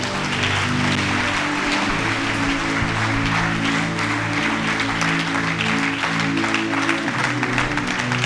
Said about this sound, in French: Tu peux acclamer le Seigneur ce matin.